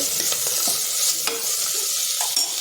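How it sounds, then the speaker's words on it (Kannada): Tomato frying in a pan for a Mughal-style veg pulao gives a soft, close sizzle, broken by repeated scraping and clattering as it is stirred. "ಈಗ ಈ ಮೂರನ್ನು ಸೇರಿ ಒಂದು ಸುತ್ತು ಹುರಿಯೋಣ"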